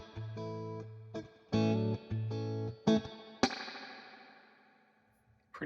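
Electric guitar through a Fender Deluxe amp emulation with reverb plays a few chords and single notes, then a struck chord rings out and decays into a reverb tail.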